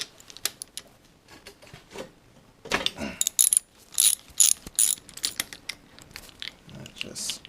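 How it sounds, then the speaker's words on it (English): A ratchet with a 1/2 inch socket clicks in short bursts while removing an auger bushing, the sharp pawl ticks coming up close between pauses and soft clatter, with some talking. "So we're going to use our 1/2 inch socket again."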